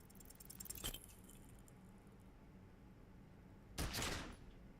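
A pistol fires in the detective game Disco Elysium, a single sharp crack standing alone near the end after an earlier, smaller click-like transient, over a quiet background.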